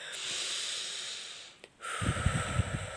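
Two deep breaths close by, a long airy inhale, a brief pause, then a breathy exhale with a slight snort, demonstrated slowly and alone.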